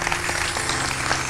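A church congregation applauds steadily during a service, a dense wash of clapping at an even level throughout.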